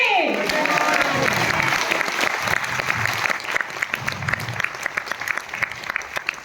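An indoor audience at a network marketing event breaks into loud applause that fades into scattered, uneven claps, with some voices mixed in.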